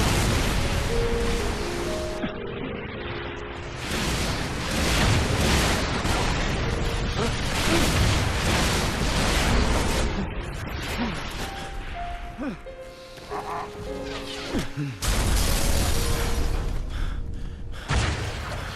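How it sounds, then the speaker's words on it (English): Rocket launcher blasts and explosions in Halo 3 ODST, fought against brutes on Mombasa streets, crash and boom in bursts over busy combat noise with gunfire and mechanical clatter, interrupted by brief tonal game sounds. "And then unload on them with the rocket launcher."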